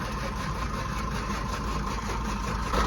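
A tractor engine idles steadily with its shaft attached, a continuous low rumble with a mechanical hum, unchanging throughout and without any voices.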